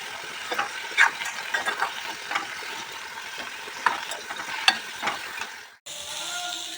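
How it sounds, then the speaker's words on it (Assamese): Potatoes with turmeric and salt frying in a pan, a continuous close sizzle broken by irregular spatula stirs and scrapes, ending abruptly in a quieter, duller hiss. "নিমখ হালধি দিয়াৰ পিছত আকৌ অকণমান দেৰি ধুনীয়াকৈ লৰাম"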